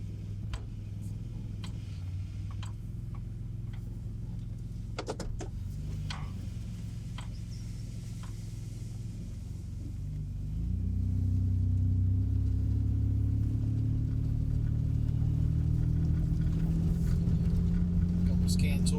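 A Ford Aerostar van with an EVAP leak drives along, its engine a low steady hum that rises and grows louder partway through as it speeds up, with faint ticking clicks heard early on.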